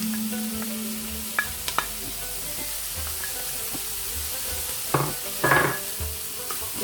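Garlic fries in a pan for a lasagne, a soft continuous sizzle with scattered stirring clicks and a couple of louder scraping bursts near the end; no talking.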